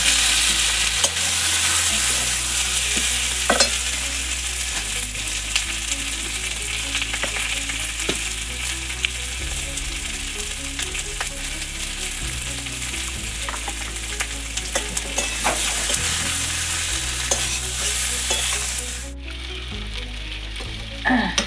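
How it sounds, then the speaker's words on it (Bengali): Potatoes with turmeric frying in a wok, a loud, steady sizzle throughout with intermittent scraping stirs, a low hum beneath, and the sizzle dropping briefly near the end. "আলুগুলো এবার একটু ভেজে নেব কড়ার মধ্যে দিয়ে"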